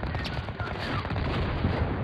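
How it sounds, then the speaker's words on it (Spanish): Dense, continuous volleys of gunfire from a video game battle, loud and sustained with rapid overlapping shots and booms throughout. "¡Disparan!"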